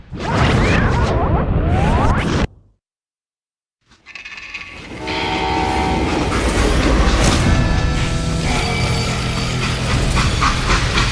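A freight train in the video game Call of Juarez: Gunslinger rumbles loudly with clattering wheels, cuts to a brief silence, then rolls on with a steady, sustained roar.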